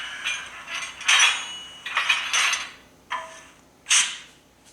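ESU sound decoder in a ScaleTrains HO scale BNSF Dash 9-44CW locomotive plays its coupler effect: a series of sharp metallic clanks and rattling clunks, several distinct hits with decaying rings, close and clear with no talking.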